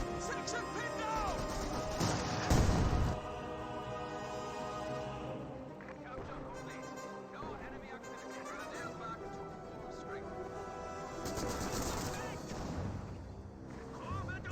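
Game battle sounds from Company of Heroes 2, with bursts of .50 cal heavy machine gun fire and other weapon impacts beneath background music, loudest early on, then continuing as a quieter, busy mix of shots and crashes.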